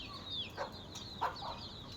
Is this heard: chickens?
yes